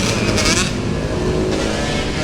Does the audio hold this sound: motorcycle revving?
yes